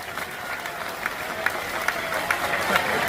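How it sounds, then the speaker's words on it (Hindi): A crowd at a religious gathering in India claps and applauds steadily at a moderate distance, with rhythmic clapping peaks and a voice speaking over it. "आपका जोरदार ताली बजा करके अब स्वागत करो"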